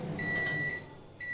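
A microwave oven hums steadily while reheating chilli idli, with a sustained high whine running through the run and a faint electronic tone near the end, close and continuous.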